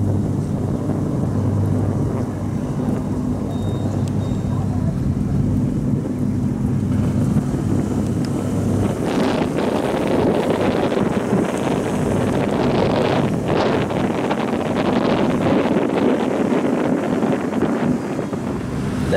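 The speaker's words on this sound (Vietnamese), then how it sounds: "Đây có một chiếc tàu cao tốc nhỏ nha, đi Hòn Tre nha các bạn, đang mở ra ha." A small high-speed passenger boat pulls away from the Rach Gia pier toward Hon Tre, its engine rumbling low and steady under heavy wind buffeting, with a louder surge of churning water in the latter half.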